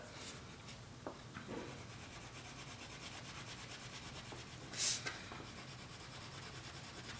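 A red crayon colors on paper with steady, scratchy rubbing strokes, close and quiet, continuing without pause and without any voices.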